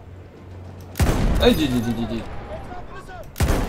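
Gunfire in the Battlefield 1 campaign video game: two loud blasts about two and a half seconds apart, with someone speaking between them.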